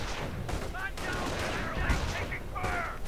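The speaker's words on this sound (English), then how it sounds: "Quite a bit of heavy artillery going on there." Gunfire and heavy artillery from a WWII strategy video game crackle continuously in the background, dense overlapping shots and booms mixed together at a steady level.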